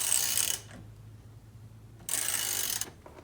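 A hand tool is cranked to pull the steering wheel off a Jeep Wrangler JK, giving two bursts of fast, close ratcheting clicks separated by a quiet pause.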